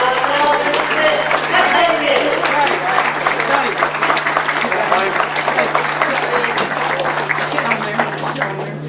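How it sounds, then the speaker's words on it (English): Outdoors at a grasstrack racing championship, a crowd gives a long, sustained round of applause for the winners. A steady hum runs underneath and voices mix in. "the big round of applause"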